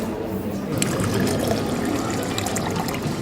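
Hot water pours in a steady trickling stream for pour-over coffee, a close continuous splashing pour with no talking.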